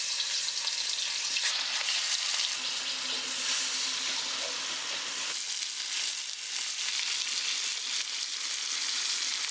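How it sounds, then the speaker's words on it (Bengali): Hilsa fish frying lightly in mustard oil, giving a steady, dense sizzle that holds at an even level, close and fairly loud, with no talking. "আর মাছটা ভেজে নেবো হালকা করে।"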